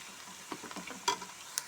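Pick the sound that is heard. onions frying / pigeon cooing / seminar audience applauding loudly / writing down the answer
onions frying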